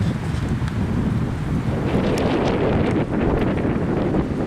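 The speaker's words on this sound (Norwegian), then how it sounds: "nå er det altså en sånn forferdelig vind" Strong wind buffets the microphone in a loud, continuous roar with gusty swells and rustling.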